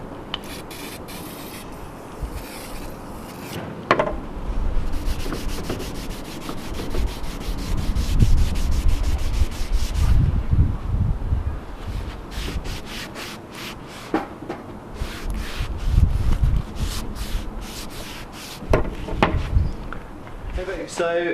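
WD-40 is used while rust is scrubbed off an antique sword, producing close, uneven rubbing and scraping strokes with a few sharp taps, under a person talking for much of the clip.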